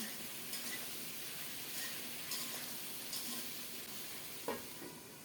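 Peeled taro roots fry quietly in a pan under a constant soft sizzle, with a few light spatula scrapes and clicks breaking through at irregular moments.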